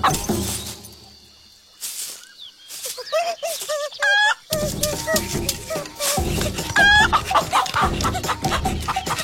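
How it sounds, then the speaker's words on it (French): A cartoon angora hen clucking in quick bursts amid music and cartoon effects, with character voices talking around the calls. "Une poule angora, même pas peur."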